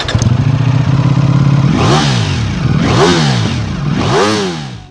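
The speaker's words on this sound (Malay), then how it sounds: "Even bunyi exhaust dia standard pun dah cukup menaikkan bulu roma anda." A Ducati Panigale V4 S engine with standard exhaust idles with a low throb, then revs sharply three times, each rise and fall loud and close.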